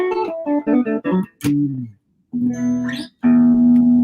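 Clean electric guitar through a JB Junior pickup rings out in chiming tones: a quick run of picked notes, a short pause, then sustained chords that hold and decay.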